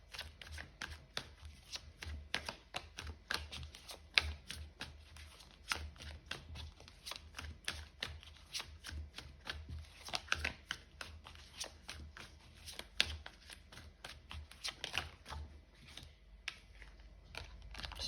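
Tarot cards shuffled continuously by hand for about eighteen seconds, a dense run of crisp papery riffles and slaps at close range, with no talking.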